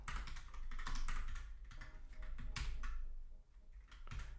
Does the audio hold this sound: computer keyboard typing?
yes